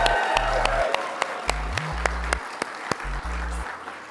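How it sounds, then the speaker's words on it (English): Audience applause at an address by U.S. Vice President Kamala Harris, with claps ringing out in a large venue under loud low rhythmic music pulses and scattered sharp individual claps. "Can we please applaud Sophia?"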